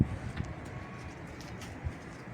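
Mardin pigeons cooing during an evening flight session, several faint low coos scattered over a couple of seconds against a quiet outdoor background.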